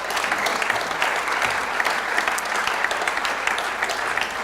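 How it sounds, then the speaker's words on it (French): Steady applause from an audience at a civic gathering honouring the prefect Roland Mouchel-Blaiseau, dense even clapping that holds at one level from start to finish with no voices over it. "que vous puissiez applaudir le préfet Roland Mouchel-Blaiseau"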